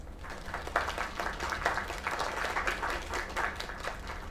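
Sustained crowd applause in a video game, with dense, steady clapping throughout, fairly loud and continuous with no voices standing out.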